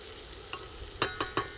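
Garlic frying on high heat in a pan, a soft sizzle broken by three sharp stirring scrapes in quick succession near the end, close and fairly quiet with no talking.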